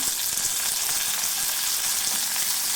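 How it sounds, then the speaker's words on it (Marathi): Green chillies and curry leaves frying in hot oil for a thali offering, a steady close crackling sizzle with bright hissing spatter that holds evenly throughout, no voices over it. "मिरच्या छान परतून घेतल्या तेलामध्ये आता याच्यामध्ये कढीपत्ता टाकायचा"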